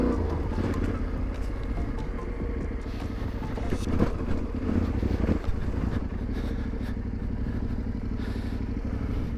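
A Yamaha Tenere 700 motorcycle rides along a dirt road, its engine a steady close drone with rumbling and clattering from the rough surface.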